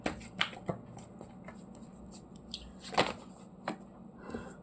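A deck of tarot cards being shuffled close by, with soft irregular riffles and flicks and a few sharper snaps among quieter handling. The sound is fairly faint and has no talk over it.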